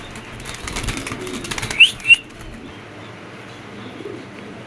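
Fancy pigeons for sale, such as Birmingham Roller and Budapest breeds, flutter restlessly with two quick, close wing-flap bursts, and soft cooing murmurs through the background.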